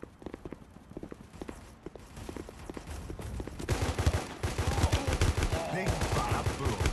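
Shotgun blasts and rapid gunfire in the Guns of Boom mobile shooter game, a string of sharp repeated shots that grows louder and denser in the second half over background game sounds.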